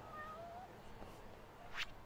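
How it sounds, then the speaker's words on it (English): A single short cat meow rings out near the end in a video game, following a quiet stretch with faint whistling tones. "I hear a cat."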